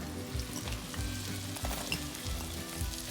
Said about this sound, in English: So I'm going to add these nuts into the onions now.